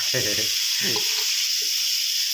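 Yellow soba-style noodles stir-fried with marinated pork in a hot pan, a steady bright sizzle throughout with scraping and tossing of the spatula in short bursts near the start, no voices.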